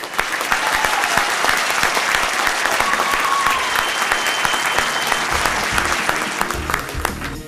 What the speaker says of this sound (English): So a round of applause to everybody that took the day to come here.